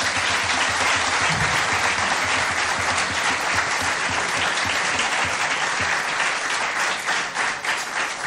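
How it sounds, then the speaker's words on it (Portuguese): Sustained audience applause at a fado concert, a dense steady wash of clapping hands filling the room from start to finish with no talk over it. "Eu queria pedir uma salva de palmas muito grande para eles, se faz favor."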